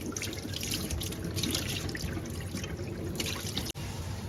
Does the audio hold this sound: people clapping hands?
no